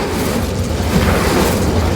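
An Incendio fire spell cast in Hogwarts Legacy, a loud, steady, broadband whooshing roar of flame that swells slightly midway and holds without a break.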